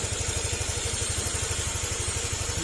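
A freshly assembled motorcycle engine idles at low throttle, a quick, even, pulsing putter with a faint mechanical vibration, close and steady, quiet and smooth without knocking.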